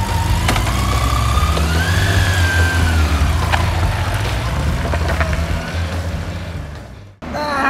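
A motorcycle engine runs steadily and loudly close by for several seconds, then cuts out abruptly near the end as the kickstand is put down.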